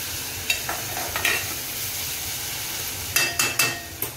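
Onion and potato bhaji cooking in a pan for masala dosa filling, with soft steady frying and a few sharp spatula scrapes and clinks against the pan, close up and without talk.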